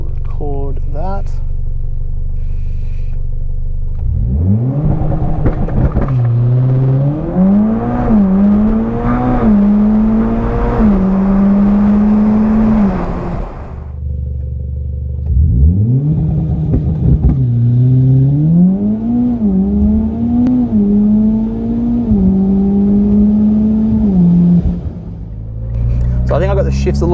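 A 400whp Mitsubishi Evo X launches and accelerates hard twice, each run a rising engine roar broken by quick gear shifts with brief dips in pitch, loud and close from inside the cabin, with quieter idle between runs.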